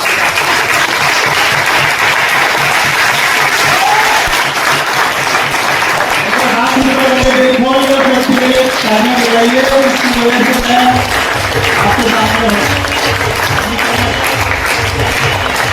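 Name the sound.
loud audience applause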